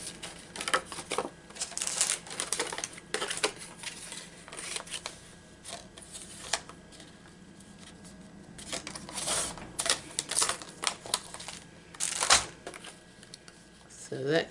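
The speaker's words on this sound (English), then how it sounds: "I'm just going to cut it to size." Scissors snip through paper being trimmed to size for a decorated journal cover, a run of close, crisp cuts and rustling paper handling in irregular bursts at a desk, with a faint voice in the background.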